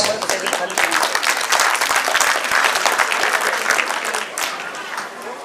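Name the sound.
audience applause for students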